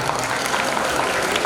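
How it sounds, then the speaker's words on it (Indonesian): Audience applause at an Indonesian talk show for two schoolchildren, a dense steady patter of many hands clapping close by for a short burst, with no break in the sound. "Tepuk tangan dong"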